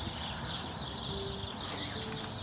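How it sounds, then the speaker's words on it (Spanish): Small birds singing at dawn among trees, faint repeated chirps and warbles over a steady hiss of morning outdoor ambience, no voices. "escuchando el canto de estos pajaritos"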